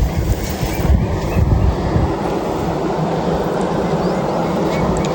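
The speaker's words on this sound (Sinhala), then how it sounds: "සවුන්ඩ් ඒ කියන්නේ ගොඩක් වතුර ඇරියා නම් මේ ස්පීඩ් එක වැඩි." Water rushes steadily out of a village reservoir sluice, a loud continuous broadband roar with a slight surge in the first couple of seconds, no voices.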